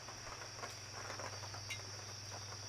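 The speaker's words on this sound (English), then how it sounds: "I'm out here in the rain, by the way" Steady rain falling outdoors during a rainy football-season commentary, a continuous faint hiss with scattered soft patter and a low hum beneath, no talk over it.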